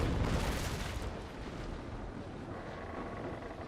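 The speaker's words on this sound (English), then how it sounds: "But we can now turn on and use the other cannons. And we'll fire." Ship cannons firing in the naval combat game Naval Action, a dense rolling barrage of booming blasts that stays loud and continuous throughout.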